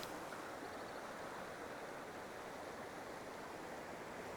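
A steady, even rush of flowing water in Arroyo Seco Creek fills the scene at moderate distance with no other sounds.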